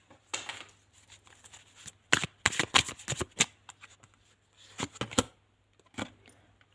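Tarot cards are shuffled and drawn from the deck during a reading, giving a cluster of sharp riffling slaps in the middle and scattered single card snaps before and after, close and fairly loud against a quiet background.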